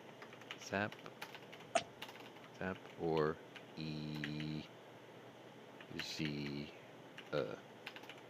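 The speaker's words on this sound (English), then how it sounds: "Let me type that out in the chat." Keys clatter on a computer keyboard in short bursts of rapid typing, fairly close, separated by brief pauses, with one sharp isolated keystroke among them.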